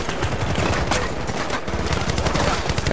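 Dense, continuous turret gunfire from Battlefield: Bad Company 2 rattles loud and unbroken for the whole stretch, thick with rapid overlapping shots and game battle noise.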